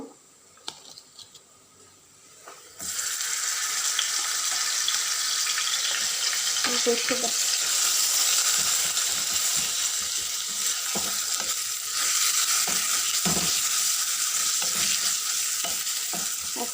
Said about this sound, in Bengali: এখানে আমি এই যে এখন আদা রসুন পেস্ট দিয়ে দিব